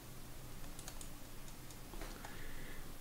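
A computer keyboard shortcut is typed while working in Photoshop, a few faint soft key clicks close by over low room hiss, with no talking.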